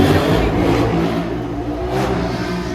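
A superbike engine revs on a road stop frequented by bikers, a steady, loud, near engine drone with a rising rev around the middle, continuous throughout with no talking.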